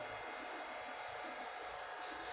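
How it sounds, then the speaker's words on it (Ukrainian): Cooling fans of a CJ CHANGI CJ-4000Q running at full speed give a steady, loud broadband whoosh with no breaks, close up and alone. "Вентилятори запустилися, працюють на повний хід."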